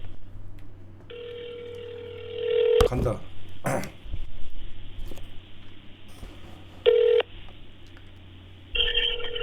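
A telephone call on a Korean talk broadcast: a steady dial tone and ringback beeps sound in bursts, with short sharp dialing tones between them and people talking faintly over the line.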